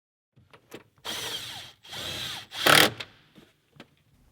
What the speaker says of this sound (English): We can now install the iNTECH airbox assembly to the fender using the 2 bolts that we removed earlier. Position and tighten the bolts.